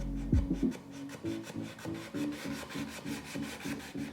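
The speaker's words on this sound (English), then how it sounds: "Then it was on to some final hand sanding." Sandpaper rubs by hand across a wooden box in quick, even back-and-forth strokes, a rhythmic raspy scrape repeated roughly twice a second after a brief knock at the start.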